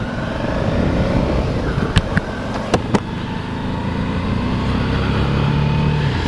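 Suzuki V-Strom 650 motorcycle (2012, ABS) with its 90-degree V-twin engine running in a steady low rumble on a chilly December morning outdoors, with a few sharp clicks partway through.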